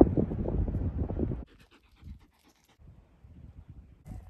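Greyhound panting in quick rapid breaths close by for about a second and a half, then quieter, softer intermittent breathing and small movements inside a van in Cornwall.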